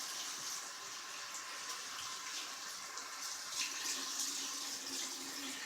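Water runs steadily from a tap while a soapy foam air filter from a Kawasaki Ninja 250 motorcycle is washed, a constant faint splashing flow with light sloshing as it is worked.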